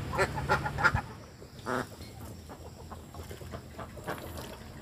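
A flock of about thirty laying ducks in a low-cost coop gives a cluster of loud, nasal quacks at the start, then one more honking call a little later, with softer scattered calls and steady background noise.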